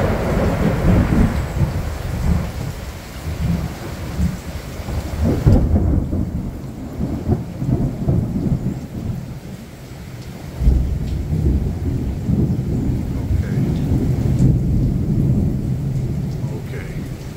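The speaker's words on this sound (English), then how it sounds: "Is that Major League Thunder?" Heavy thunder rumbles through a summer storm in Citrus County, Florida, deep and sustained with rolling low booms, a sharp loud crack near the middle, and steady rain hiss throughout.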